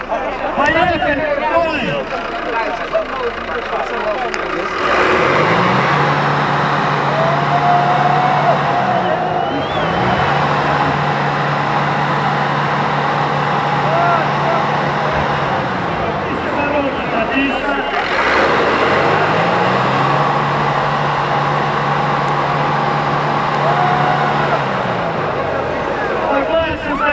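Car engines rev and roar at an outdoor drift event, with long rising and falling engine tones repeating in waves and a crowd and announcer talking over the top.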